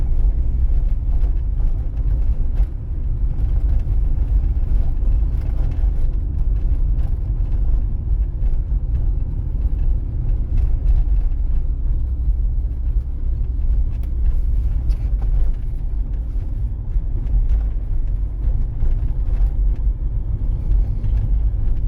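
A car drives steadily along a city road in Vinnytsia during a driving exam, a constant low engine and road rumble heard from inside the cabin, with no talk.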